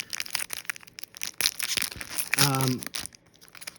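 Yu-Gi-Oh booster card packs torn open with crinkly foil ripping and crumpling, close and moderately loud, with a brief voiced sound mixed in partway through.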